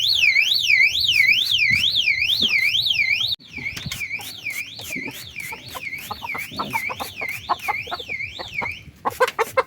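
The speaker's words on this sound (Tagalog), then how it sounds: "nag-ingay yung ating alarm" A loud electronic alarm wails in a rapid rising-and-falling sweep, cutting briefly before resuming with clattering handling noises underneath.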